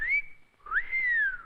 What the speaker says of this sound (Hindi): पुलिस वाली को देखकर सीटी बजाते हो?